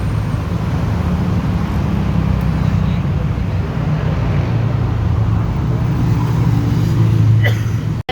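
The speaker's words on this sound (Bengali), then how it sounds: "বাস চলে আসছে" A bus arrives at a stop in Malaysia bound for Singapore, its low engine rumble steady and close amid constant roadway noise, with a brief hiss near the end.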